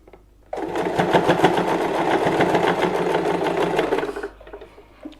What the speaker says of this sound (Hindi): हम इसके चारों तरफ एक सिलाई लगा लेंगे